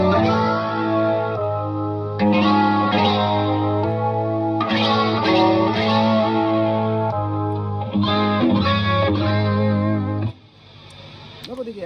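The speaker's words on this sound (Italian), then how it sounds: "semplicemente faccio così e la chitarra me la scorda di un semitono" An electric guitar run through a Digitech The Drop pedal set one semitone down plays chords and riffs with a chorused, slightly distorted effect tone, loud and steady before cutting to a quieter tail.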